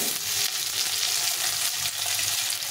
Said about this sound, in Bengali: আলুটাকেও ভালো করে ভেজে নিতে হবে।